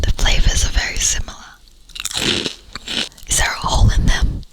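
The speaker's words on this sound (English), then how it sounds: "They're little nuggets of crunchy cereal." Crunchy Fruit Loops cereal chewed close to the mic in blindfolded ASMR, several bursts of crisp crunching with a soft whisper-like voice woven between bites.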